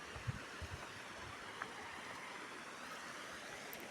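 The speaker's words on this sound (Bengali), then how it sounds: "জলগুলো সব ওখান থেকে উপর থেকে আসছে রে নিচে গিয়েই হচ্ছে" Water falling from a height and flowing downward, a steady broadband wash and rush with a few faint splashes, moderately distant and continuous throughout.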